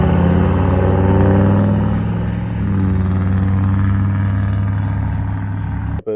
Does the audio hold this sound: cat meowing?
no